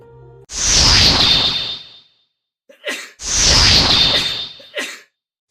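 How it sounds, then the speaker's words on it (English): Two sneezes, each a sharp inhaled catch followed by a loud explosive burst, with a short breath between them, close up. "Sneezing is our body's way of expelling irritants from the nasal cavity."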